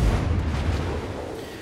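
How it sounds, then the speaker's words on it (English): Heavy naval guns of the Normandy battleship in World of Warships firing a salvo, a deep booming blast at the start that rumbles and decays over the next second and a half. "So here's a few shots out of the Normandy."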